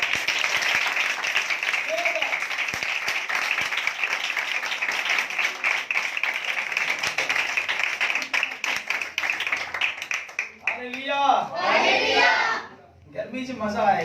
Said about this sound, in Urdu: خدا پاک روح کے لیے زوردار تالیاں